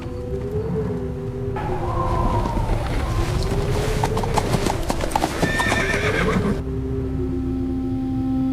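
Horses whinny loudly while hooves clop steadily nearby, with a windy rumble underneath.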